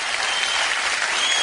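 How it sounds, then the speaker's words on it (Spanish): Dense audience applause at an event, a continuous wash of many clapping hands, even and fairly loud for the whole short stretch. "por favor un aplauso para ellos"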